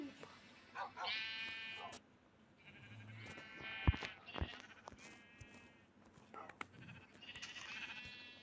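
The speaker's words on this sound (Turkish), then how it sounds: "Koyun." A sheep in Minecraft bleats in a short wavering call, then again later, with game sounds and chatter in the background.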